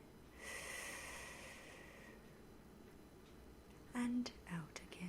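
A soft-spoken woman taking a slow, deep breath in during a guided relaxation, a long, close, airy inhale followed by quiet breathy sounds and a faint whisper near the end.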